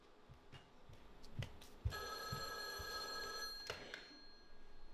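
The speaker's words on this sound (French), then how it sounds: "Téléphone." A telephone bell rings steadily for roughly two seconds on an amateur theatre stage in Paris, over low room noise with scattered thuds and rustles before and after.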